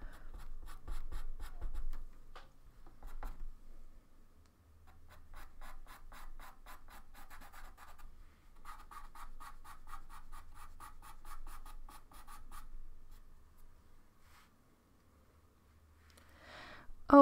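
Soft pastel sticks scratch and rub across Clairefontaine Pastelmat paper during a snowy owl drawing. Quiet, close strokes come in irregular bursts, with a few pauses.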